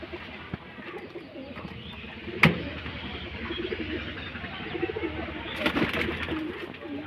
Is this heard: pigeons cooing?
yes